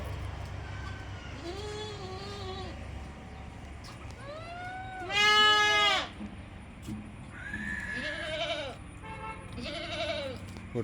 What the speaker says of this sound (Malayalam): നല്ല കനമുള്ള വലിയ ആടാണ്.